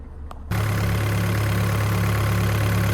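A car with a fault that makes it cut out after restarting runs at a steady idle, a loud, even low engine drone that starts abruptly after a brief quieter moment and continues unbroken.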